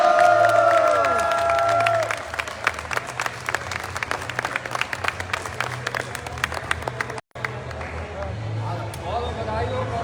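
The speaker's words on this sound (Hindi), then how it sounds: "आपके सामने बहुत खूबसूरत और जोरदार तालियां" A large audience at an award ceremony for a Mercedes GL luxury achievement claps and cheers. The steady, loud applause carries crowd noise and music underneath and runs throughout, with a brief dropout near the end.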